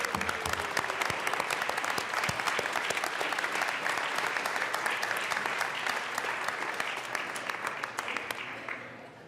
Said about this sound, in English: big round of applause for our incredible clerks